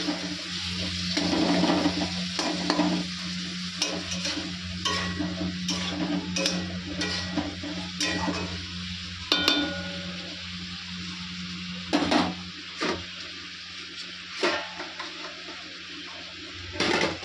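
Food being sautéed and stirred in a pan, with eggs to follow, gives a steady low sizzle broken by scattered scraping taps of a utensil, fairly quiet and with no talking.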